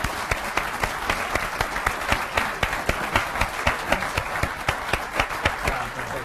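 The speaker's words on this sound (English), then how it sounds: "Let's give all three of these gentlemen a great round of applause." An audience gives a round of applause at a morning session, with many hands clapping in a fairly rhythmic, sustained patter at moderate volume.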